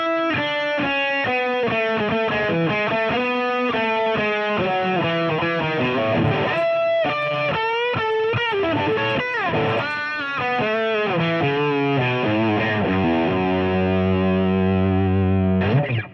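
An electric guitar lead is played through a Fender Tonemaster Pro with boost, delay and reverb, giving a distorted, sustained solo with bends and held notes. It continues steadily and ends on a long ringing note.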